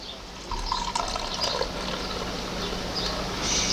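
Home-brewed stout beer pours from a bottle in a continuous bright, fizzing trickle that stays fairly loud and close from start to finish, with no talking over it.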